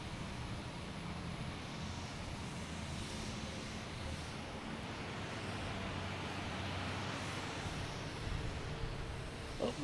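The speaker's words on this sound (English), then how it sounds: "Next taking off is Delta, heading to Baltimore in E175." A Delta Embraer E175 jet starts to taxi at Boston Logan Airport, a faint, steady, distant engine rumble and hiss holding level throughout, with no talking.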